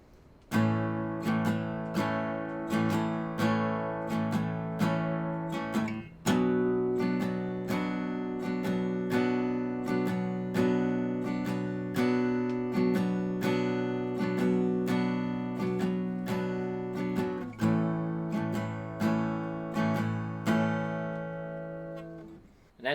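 Acoustic guitar playing a song's rhythm with palm-muted strums, a steady pattern of short damped chord hits with sustained notes ringing between them, close and alone.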